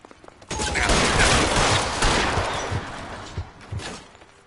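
Gunfire erupts in the L.A. Noire arson case 'The Gas Man': a loud, dense volley of shots that bursts in suddenly and rattles on for several seconds, then thins into a few separate cracks.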